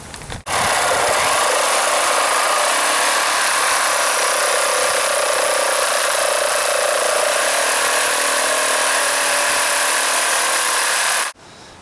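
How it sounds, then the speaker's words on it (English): A sawzall reciprocating saw starts abruptly and cuts off the excess length of a bolt on a post repair, giving a loud, harsh, continuous rasping roar for about eleven seconds before it stops. "we're going to take a sawzall and cut off the excess"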